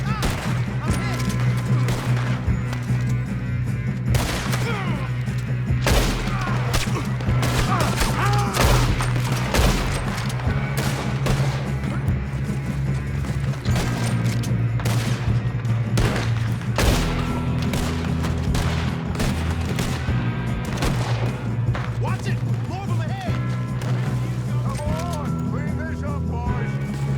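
Heavy, sustained gunfire in a Red Dead Redemption 2 shootout with O'Driscoll gang members, dense volleys of rifle and pistol shots cracking continuously over a low droning score, with voices talking intermittently.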